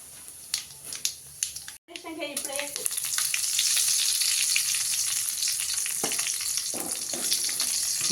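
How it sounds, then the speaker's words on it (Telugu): Spices for tempering hit hot oil for raw tamarind chutney and erupt into a loud, continuous sizzle that settles into steady frying, after a few short clinks and taps at the start. "ఇప్పుడు పచ్చడికి తాలింపు వేసేసుకుందాం."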